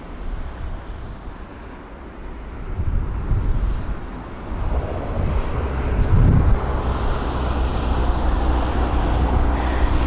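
Boeing 787-8 Dreamliner landing at London Heathrow in gusty wind, a low rumbling engine roar that swells midway, mixed with buffeting wind noise on the microphone and no voices.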